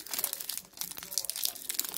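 A trading card pack is ripped open by hand without scissors, giving a close, crisp run of foil crinkling and tearing with sharp bursts of rustle, with people talking underneath.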